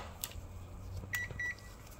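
A multimeter in buzzer continuity mode, probing an inverter air conditioner circuit board, gives two or three short, thin electronic beeps, faint against a low background hum.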